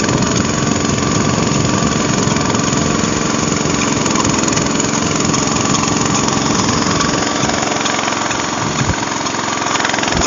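A motorcycle engine drones steadily and loudly up close while riding through deep flood water on a submerged road in the Philippines, an unbroken mid-pitched running sound with no talk over it.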